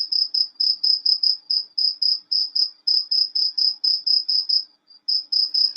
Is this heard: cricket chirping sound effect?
yes